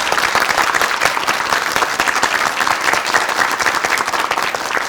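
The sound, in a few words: studio audience applause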